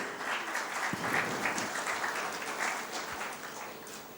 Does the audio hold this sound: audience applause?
yes